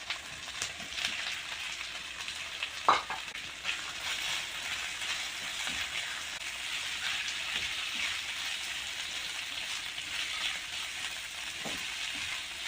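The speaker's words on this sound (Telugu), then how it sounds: "కట్ చేసుకున్న టిల్లీ ముక్కలను కూడా వేసుకొని మంచిగా కలుపుకుందాం" Steady oil sizzle from a hot frying pan as chopped mutton spleen pieces are added, with a few scraping knocks of a spoon stirring them around; no voices.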